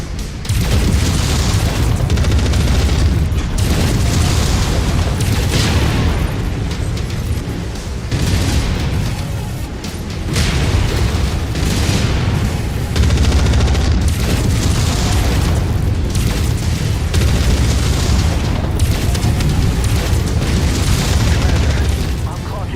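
Deep explosions of destroyed targets in MechWarrior 5 boom repeatedly over a heavy, rumbling battle din. The blasts swell in loud waves across the whole stretch, with voices under the noise.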